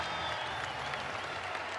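Sellout college basketball arena crowd at an Ole Miss versus Missouri men's game, cheering and applauding loudly after a foul, a steady roar filling the space.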